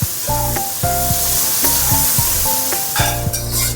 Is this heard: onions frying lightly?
yes